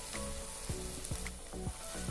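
Chicken gravy with coconut milk sizzles steadily as tomato ketchup goes in, a soft continuous hiss with a few faint stirring knocks, close and alone with no talk.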